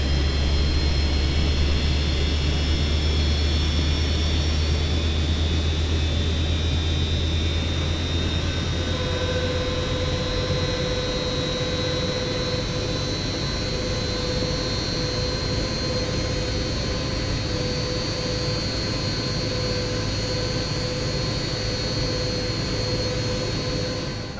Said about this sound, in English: let's just take a moment to listen to some of these sounds from the exterior for the engine start